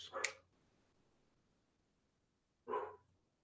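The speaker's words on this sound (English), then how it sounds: "What is he barking at?" A dog barks twice, one sharp bark at the start and another nearly three seconds later, faint and somewhat distant against quiet background, with no talk.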